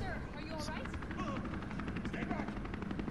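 Helicopter in the video game Resident Evil 3 Remake, a steady rotor drone heard throughout beneath game sounds and someone talking.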